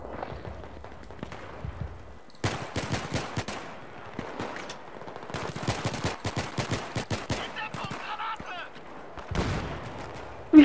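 Gunfire in the video game Battlefield 3 comes in rapid automatic bursts and scattered single shots, with clusters of sharp cracks and short pauses between them, while players talk now and then.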